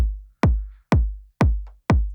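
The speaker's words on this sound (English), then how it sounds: "I've got just a really basic 808 kind of knocky sample that sounds like this." Four deep, booming 808 kick drum hits in a steady, evenly spaced rhythm, each with a sharp click at the start and a long low tail, heard alone.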